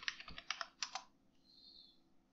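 Fingers type a short search on a computer keyboard: a few quiet, close key clicks in a quick cluster, then a brief pause, with no talking.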